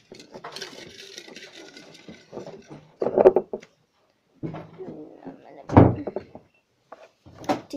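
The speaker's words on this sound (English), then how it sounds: "Close the door when you go out, Leland" A wooden door shuts with a solid thud amid a household, preceded by talk and a couple of knocking bumps; a second loud closing thump lands near the end.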